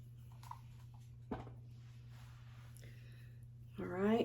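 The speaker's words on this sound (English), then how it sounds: "So I'm gonna give this a good spray." Plain water sprayed from a bottle onto a synthetic wig, a few quick soft hisses under a steady low hum, with a louder rushing burst near the end.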